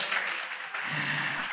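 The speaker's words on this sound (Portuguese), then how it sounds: "Uma salva de palmas a Cristo Jesus." A church congregation gives a short burst of steady applause, with the clapping spread evenly across the room.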